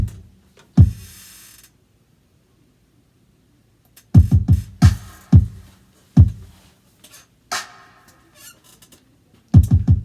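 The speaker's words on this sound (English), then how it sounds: "we're just going to add the claps on the 5th" Programmed Fibonacci-based R&B drum pattern of booming kicks with sharp, snappy claps scattered between them, irregularly spaced with brief silent gaps.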